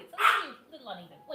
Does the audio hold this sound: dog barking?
yes